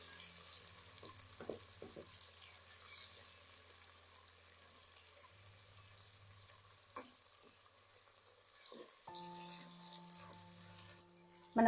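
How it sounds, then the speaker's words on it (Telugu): Chopped onions fry in a cup of oil for Telangana boti curry, a soft steady sizzle with occasional stirring clinks, fairly quiet, with faint background noise. "ఉల్లిగడ్డలు అయితే వేస్తున్నాం మనం"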